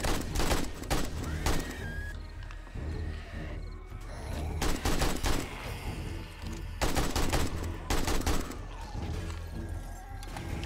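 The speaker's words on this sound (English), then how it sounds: "this AK is pretty nice" AK rifle gunfire in the game 7 Days to Die during a horde night defense, with dense rapid bursts of shots in several volleys separated by brief pauses, loud and close.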